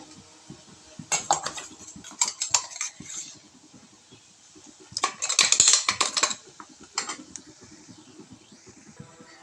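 Ground masala being stirred in a hot cooking pan with a utensil: bursts of sharp scraping and clinking in two main clusters, near and fairly loud, with quieter gaps between.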